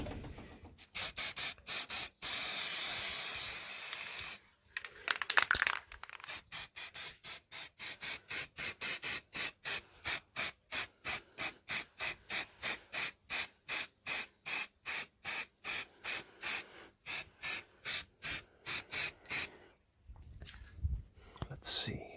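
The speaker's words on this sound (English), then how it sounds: "this is nasty and dangerous stuff that I'm spraying" Indoors, an aerosol spray can hisses paint onto board game miniatures in dozens of short, evenly paced bursts, close and steady, with a longer continuous spray at the start and brief pauses between runs.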